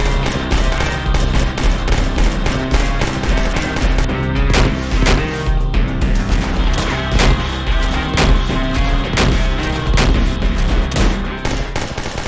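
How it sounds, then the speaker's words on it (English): Rapid bursts of gunfire blast continuously as zombies are shot down in an underwater zombie apocalypse survival video game, loud and dense with dramatic music underneath and no talk. "I started shooting them off as they got closer and closer."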